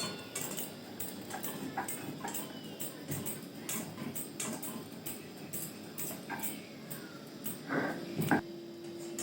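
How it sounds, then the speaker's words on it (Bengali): Soaked Gobindobhog rice being ground on a shil-nora grinding stone makes a steady, rhythmic series of scraping knocks, quiet and close, repeating about every half second with no voices. "সেই চালটা এবার শিলনোড়াতে একটু বেটে নিচ্ছি।"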